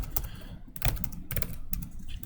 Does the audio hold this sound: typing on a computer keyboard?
yes